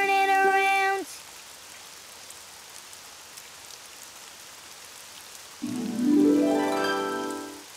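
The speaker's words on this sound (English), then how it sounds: "Oh, it's raining outside." Steady hissing rainfall in a children's video game fills the scene, framed by bright tonal chimes at the start and a rising melodic phrase near the end.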